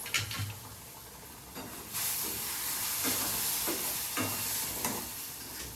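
Sheera, a semolina pudding, is stirred in a hot pan, giving a steady sizzling hiss with scraping spoon strokes that come and go at irregular intervals.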